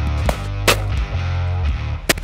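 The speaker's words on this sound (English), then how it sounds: "This is the sound of a normal shotgun." A standard shotgun fires in a few sharp, loud blasts spread over about two seconds, each cracking out above a steady low background hum.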